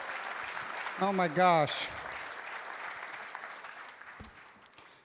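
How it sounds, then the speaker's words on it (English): An audience applauds a panel at a real estate event, a broad wash of clapping that swells and then gradually fades, with a brief spoken exclamation early on. "How about a round of applause for our panel?"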